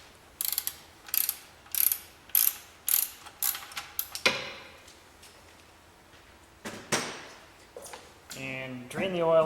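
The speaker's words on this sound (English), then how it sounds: "using a 17 millimeter wrench or socket wrench, you can loosen the drain plug" A socket wrench ratchets on the oil drain plug of a 1.8T B6 Audi A4, a run of sharp clicks in a steady rhythm followed by a few scattered metallic clacks and rattles up close.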